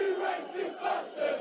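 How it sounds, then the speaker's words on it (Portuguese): English football fans in the stands roar and chant together at a match, a dense, loud crowd swell with rising and falling waves of massed voices. "Nas arquibancadas, a torcida inglesa reagiu chamando os adversários de racistas."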